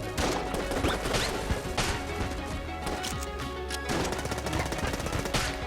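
Rapid gunfire in the Enter the Gungeon video game, a dense stream of sharp shots in quick bursts that continues loudly for several seconds with short pauses, with impact crashes mixed in.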